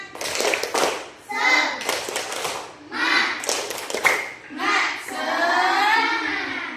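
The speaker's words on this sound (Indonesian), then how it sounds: "Oke, tepuk tangan dan semangat dulu. Tepuk semangat dulu. Ayo, tepuk semangat." Elementary classroom students clap together in rhythmic bursts of a group clapping chant, mixed with children's voices chanting along, each burst separated by brief pauses.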